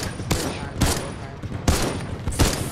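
Gunfire in a first-person Fortnite WW2 match: several loud, sharp shots and bursts spaced across a couple of seconds, close up, with faint voices in the mix.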